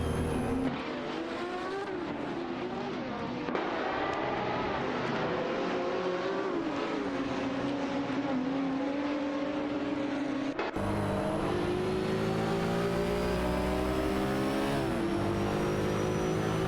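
Video game race cars roar continuously in a close fight for mid-pack positions, engines revving and shifting in pitch as several cars jostle nearby, with occasional tire squeal and no voices.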